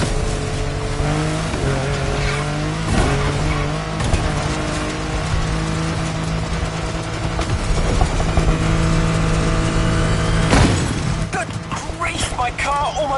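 Car racing in The Crew Motorfest on PS5, with loud engine revving and tire squeal running throughout, shifting pitch as the car accelerates and skids, close and continuous.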